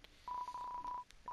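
DTMF dialing tones from a landline phone in Deltarune: one long steady tone, a short break, then a second tone starting near the end, clear and close with no talk.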